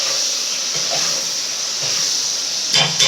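Okra and whole garlic cloves sautéing in a pan for a spicy tamarind gravy, giving a continuous close hissing sizzle that ends with a couple of quick clattering stirs.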